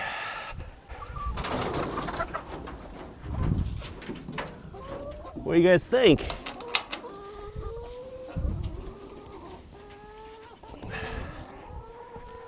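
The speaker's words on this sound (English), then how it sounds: "Time to let the chickens out." Chickens released from a portable coop cluck and call at close range, with short bursts of bird calls scattered through the scene while people talk nearby.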